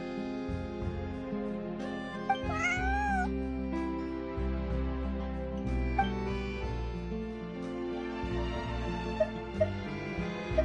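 A cat in Genshin Impact gives a clear, brief meow over a continuous bed of game music, with no one talking.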